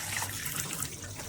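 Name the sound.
coffee pouring and dripping from De'Longhi coffee maker pot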